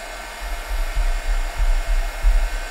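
An embossing heat tool blows a steady loud roar of hot air to dry paint on a wood-graining cup, with low rumbling gusts as the nozzle moves, close and continuous with no talk.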